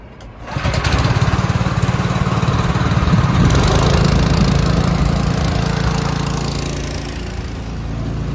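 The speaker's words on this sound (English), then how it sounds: "So we'll start by firing up the generator and the compressor." Gas generator and air compressor powering a Graco E20 Reactor 3 Elite spray foam rig start up and run with a loud, steady engine drone, close by and continuous without talk.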